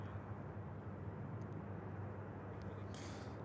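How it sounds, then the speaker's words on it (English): Boeing 737 jet rolling down the runway on its takeoff run, a steady, distant low engine roar that holds level throughout with no voices. "737's now barreling down 23 left"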